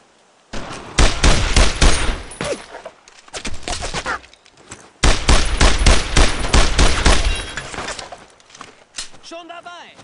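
Bursts of gunfire from the World War II shooter Brothers in Arms: Road to Hill 30, loud rattling volleys in two long stretches separated by brief pauses, with shouted voices mixed into the combat.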